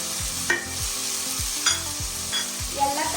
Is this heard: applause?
no